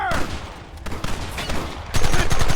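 Gunfire in Red Dead Redemption, a rapid fusillade of close shots that crackles under shouting voices and swells louder toward the end.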